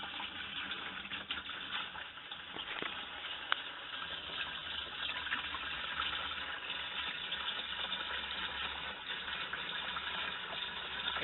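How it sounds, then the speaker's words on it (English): A full gallon of water pours steadily into a 5-gallon (20 L) portable flush toilet, a continuous close gushing splash lasting the whole stretch with no talking. "So I'll pour a whole gallon in here right now."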